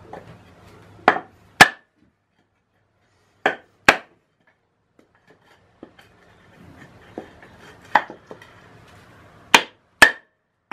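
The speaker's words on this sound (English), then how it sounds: "actually breaking the board apart" A wooden board is broken apart in a workshop, giving sharp, loud cracking snaps in close pairs, separated by quiet gaps with faint handling noise.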